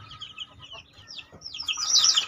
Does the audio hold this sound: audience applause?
no